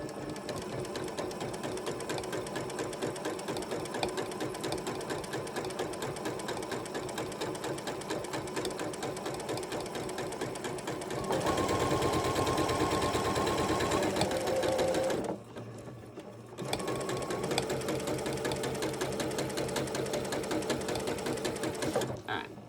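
A sewing machine stitching a quilt block runs in bursts at an uneven tempo, a close steady mechanical whir that speeds up, pauses briefly, then resumes.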